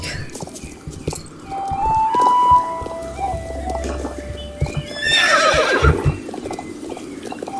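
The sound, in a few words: horses neighing and hooves in video game Star Stable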